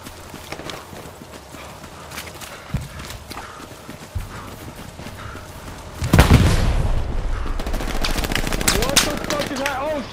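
A tank approaches in the World War II shooter Hell Let Loose at Mortain, Normandy. Scattered gunfire over rumbling battle noise gives way to a sudden loud, heavy roar of engine and tracks that swells and stays close.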